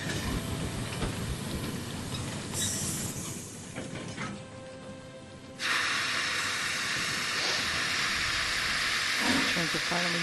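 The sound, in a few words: train moving, from the video game Murder on the Orient Express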